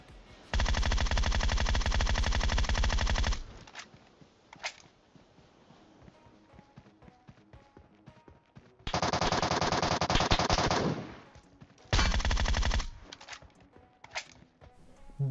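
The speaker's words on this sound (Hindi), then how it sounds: "या तो मेरे पाँव पे गोलियां पेल रहे थे" Automatic gunfire from the mobile battle-royale game PUBG Mobile rattles in loud, sustained bursts, with a long volley at the start and two more later, separated by quieter stretches of scattered shots and movement.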